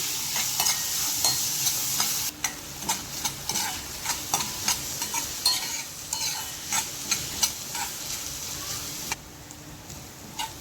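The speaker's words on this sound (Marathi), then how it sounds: "कांदा छान आपल्याला गुलाबी रंगावर परतून घ्यायचं आहे" Finely chopped onions and a cut green chilli fry in a pan with a steady close sizzle, broken by repeated scraping and stirring strokes of a utensil throughout.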